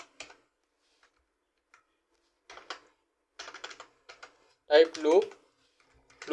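Computer keyboard keys tapped in short scattered bursts while working in Adobe After Effects, crisp close clicks separated by silent gaps, with a brief voice speaking among them.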